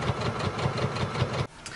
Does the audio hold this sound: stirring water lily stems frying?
no